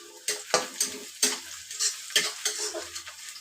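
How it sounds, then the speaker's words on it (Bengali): Onions and green chilies fry in a pan as a spatula scrapes and stirs in about eight sharp, close strokes over a soft sizzle, with no talking. "আমার পেঁয়াজ কাঁচামরিচটা হালকা ভাজা হয়ে গেছে।"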